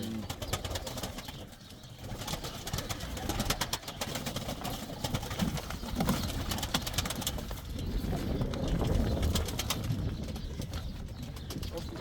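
Soft pigeon cooing rises and falls in a loft amid a busy background of rustling and shuffling, with faint voices nearby.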